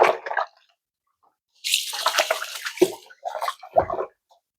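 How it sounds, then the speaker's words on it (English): Tap water runs in short bursts as fingers are rinsed under it, splashing in a sink with brief pauses between streams, close by. "So I'm just going to rinse my fingers."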